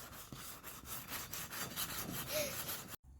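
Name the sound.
sanding cart wheels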